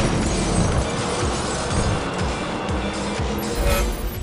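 A race car speeds around the Laguna Seca circuit in the Real Racing 3 game, its engine a loud continuous roar with rhythmic pulsing revs and a dense wash of road and wind noise.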